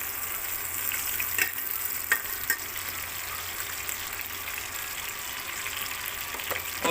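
Roughly 100 grams of ghee sizzles steadily in a pan for a black pepper chicken karahi, a continuous close crackling hiss with a few sharper pops and no talking.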